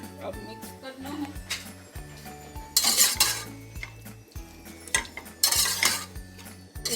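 Sliced bitter gourd and onion are stirred with salt in a pan, with a metal spoon scraping and clinking against the cookware in irregular bursts, two louder rattling scrapes standing out, while someone talks.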